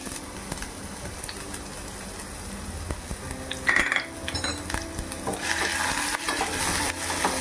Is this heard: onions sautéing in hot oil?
yes